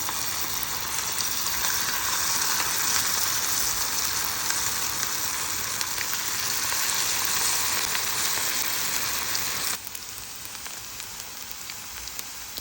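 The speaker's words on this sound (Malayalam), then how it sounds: "ഇനി നമുക്ക് ഈ കോളിഫ്ലവർ ഒന്ന് ഫ്രൈ ചെയ്തെടുക്കണം" Cauliflower pieces fry in hot oil in a pan, a steady loud hiss and crackle that runs on evenly, then drops to a quieter sizzle near the end; no one speaks.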